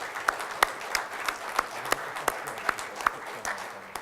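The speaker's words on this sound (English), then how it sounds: "if you just say another round of applause for all the speakers, please" A conference audience at an energy event applauds the speakers after a wave and tidal energy session. Sharp individual claps stand out at a regular pace over a soft, diffuse wash of clapping.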